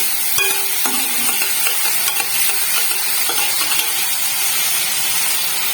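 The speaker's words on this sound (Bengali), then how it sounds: "তারপরে এই আদা রসুন টমেটো কাঁচা লঙ্কার পেস্টটা দিয়ে দেবো।" Ginger, garlic, tomato and green chili paste frying in a pan with a steady broadband sizzle and occasional stirring scrapes, close and continuous, with no voices.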